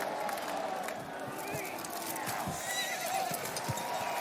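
A horse whinnies amid the clatter of hooves in a dramatic television scene, with crowd noise and voices underneath, the neighs and hoofbeats fairly loud and continuous across the moment.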